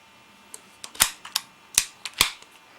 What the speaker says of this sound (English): replace the mag, pull the bolt back and forward,